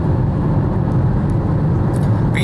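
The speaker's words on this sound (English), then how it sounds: "Motorcycle." A motorcycle passes on a highway while heard from inside a moving vehicle, blending into steady road and wind noise with a few brief high chirps near the end.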